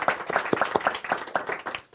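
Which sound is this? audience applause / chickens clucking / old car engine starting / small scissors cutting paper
audience applause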